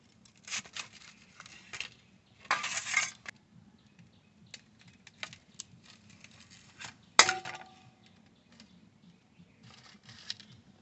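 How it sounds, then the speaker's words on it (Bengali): A knife cuts paneer into pieces in a home kitchen, giving sparse, faint clicks and taps on a board, with a few short bursts of scraping and one sharper clink. "প্রথমে পিস পিস করে কেটে নেব"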